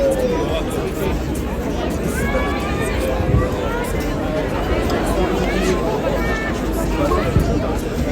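Busy street crowd in Brussels, a dense continuous babble of many voices chattering at once, steady and close, with occasional louder calls and a few shouts rising out of the hubbub.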